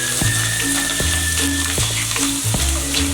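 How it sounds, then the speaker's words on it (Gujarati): Poha, flattened rice, fries in hot oil for spiced chivda, giving a steady loud sizzle with sharp periodic knocks of stirring against the pan. "તો હવે આપણે પૌવા તળી નાખીએ"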